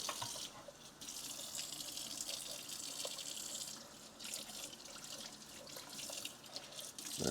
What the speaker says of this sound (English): Water's warming up.